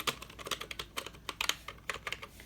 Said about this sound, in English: I've been using this Advent C12 rubber, just your typical rubber dome keyboard